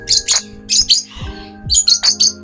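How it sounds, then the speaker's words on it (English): An escaped pet bird indoors gives loud, close bursts of bright chirps and short squawks in quick groups, with a low, steady hum underneath. "Oh my god, a bird just escaped."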